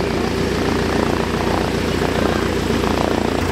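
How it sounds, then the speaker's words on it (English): A small plane flies overhead near a lake, its propeller engine giving a loud, steady, continuous drone with no speech. "I just looked out and there's a plane."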